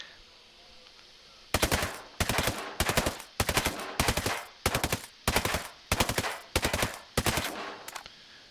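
AUG Scout rifle firing in burst mode in Ghost Recon Breakpoint, a series of about ten loud, sharp bursts of rapid shots spaced at roughly even intervals after a quiet start.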